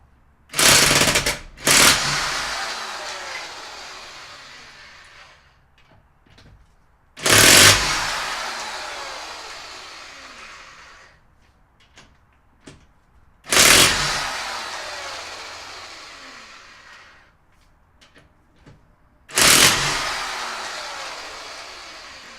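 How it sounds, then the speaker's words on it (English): Impact wrench removing a car's wheel nuts: four loud, sharp rattling bursts of one to two seconds each, spaced several seconds apart, with quiet handling noise in between. "just remove each of the wheel nuts with the impact wrench, and it should go pretty quickly"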